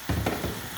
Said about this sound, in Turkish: Ve bir 5 dakika havuçlarımı soğanlarla birlikte kavuracağım.